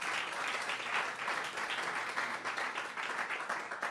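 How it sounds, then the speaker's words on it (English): Dense applause from an audience at a thank-you party, many hands clapping steadily and fairly loud throughout with no talking. "give yourself a round of"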